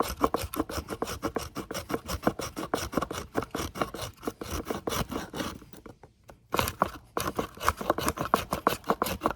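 A toothed rasp on a fire-making tool scrapes rapidly back and forth across wood, raising shavings in a fast, loud, rhythmic rasping with a brief pause midway.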